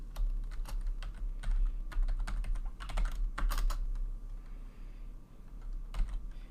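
Password typed on a computer keyboard during a server login, a steady run of close, crisp key clicks with short pauses and a final burst, no voices.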